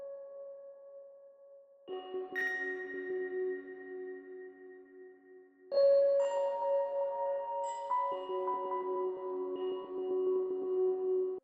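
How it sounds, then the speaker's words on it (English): Bell-like ambient synth tones ring out in a sparse electronic track, sustained chiming notes layering and shifting pitch in clean, reverberant steps with no voices. "Then I added this bell-like synth for more ambience."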